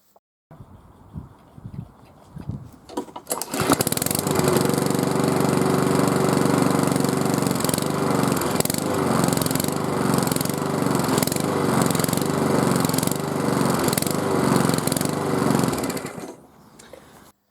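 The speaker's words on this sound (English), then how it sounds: "the lawnmower started by rotation bouncing up and down" After some faint knocking, a lawn mower engine coughs to life after winter storage and runs loud and close, its note pulsing and surging unevenly in a regular bouncing rhythm before cutting off abruptly.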